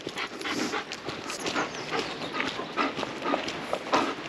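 A German Shepherd pants close by, rapid breathy panting running steadily throughout, with quick rhythmic huffs of air and no talking.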